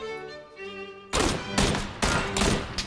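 Gunfire in PlayerUnknown's Battlegrounds: after a quiet stretch with faint tones, a burst of loud, close shots erupts, with three or four heavy volleys crackling in quick succession.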